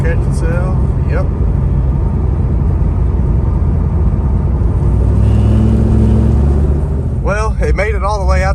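A sick 2002 Pontiac Trans Am WS6 engine runs with the throttle released, giving a continuous deep, loud rumble that holds steady throughout while people talk over it.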